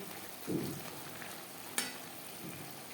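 Snake gourd (chichinga) being stirred as it fries on a high flame, a soft steady sizzle with a few brief scraping stirs and one sharp utensil clack partway through.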